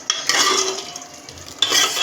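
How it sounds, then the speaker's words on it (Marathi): Cooked dal poured into a hot tempering of tomatoes in a pan, with a loud sizzle and stirring that fades and then flares again near the end. "डाळ आता आपण फोडणीला टाकूया."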